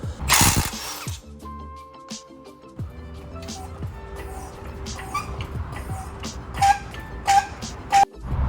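A ratchet works bolts loose on the rear leaf spring of a Lexus GX470, with bursts of rapid clicking at close range between quieter pauses and some clanks of tools.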